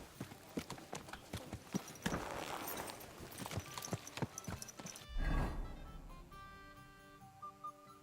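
Horse hooves clip-clop in Kingdom Come: Deliverance II, a quick, regular clatter of hoofbeats at close range that stops midway, followed by quieter game sounds.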